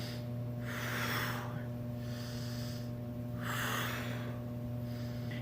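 Slow, deep breaths during a frog stretch for hip mobility: two long airy exhales, each a few seconds long with a pause between, close to the mic over a steady low electrical hum.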